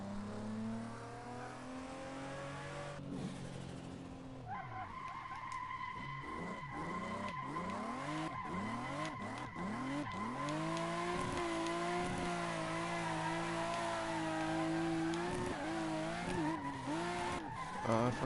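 A car drifts in the racing game Assetto Corsa, its engine revving up and down in rising sweeps while tires squeal and skid almost continuously, loud and close, with no talk.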